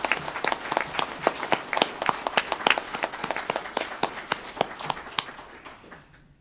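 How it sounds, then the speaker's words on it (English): Audience applause at a nonprofit city court judges candidate forum: a steady burst of many hands clapping that fills the room, then thins out and fades near the end. "Let's give them all a round of applause."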